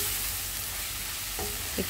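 Onions frying slowly over low heat in a pan for a Bengali lime and Bombay duck dish, giving a steady close sizzle with a couple of brief scraping stirs near the end.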